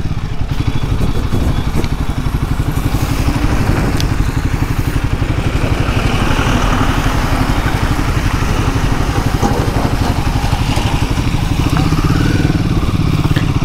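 A Royal Enfield Himalayan 450 motorcycle engine runs loud and close, a steady rapid thumping beat with a rough mechanical clatter that holds throughout without any pause.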